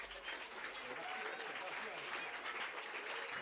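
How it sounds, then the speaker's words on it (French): An audience at a live concert applauds the sound engineer, steady dense clapping that fills the whole stretch, with a voice talking over it. "José Godin au son, vous pouvez l'applaudir celui-là"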